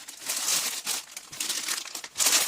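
Crinkling of a plastic crisp packet, dense crackly rustles in bursts with brief pauses, fairly close and moderately loud, with no voices.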